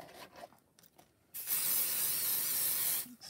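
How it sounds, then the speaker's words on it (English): A quiet rustle, then a steady hissing spray from a can of Pixie Spray bursts out for about a second and a half before stopping, followed by a faint click. "I'm going to spray a little bit of pixie spray on there"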